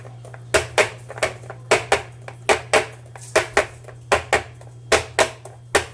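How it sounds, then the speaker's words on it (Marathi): A greased metal cake tin filled with batter tapped repeatedly on a surface to release air bubbles, giving about sixteen close, sharp knocks in a loose rhythm, mostly in pairs, over a low steady hum. "हे टॅप करून घ्यायचा डबा"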